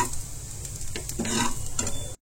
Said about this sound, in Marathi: आता हे सर्व आपण व्यवस्थित छान मिक्स करून घेणार आहोत